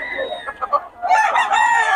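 A chicken clucks briefly, then a rooster crows loudly nearby, a drawn-out strained call.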